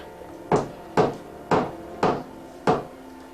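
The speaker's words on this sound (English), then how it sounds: "Show Mommy and Daddy how you hit the nail." A young child hammering a nail into wood, five firm, evenly spaced knocks about half a second apart, each a sharp close strike with a brief ring, with no talking.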